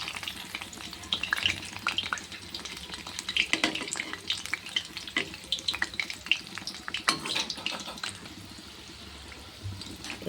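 Urad dal vadas deep frying in oil on a slow flame, a dense continuous bubbling crackle that stays even and close throughout.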